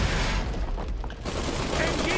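Heavy machine gun fire from the Iron Harvest video game, a dense rattling burst of rapid shots with booming low end, briefly easing mid-burst before resuming at full loudness.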